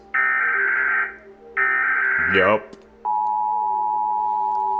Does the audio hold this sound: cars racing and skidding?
no